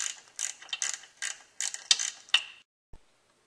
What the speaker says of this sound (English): you're going to carefully tighten the 7mm bolt back up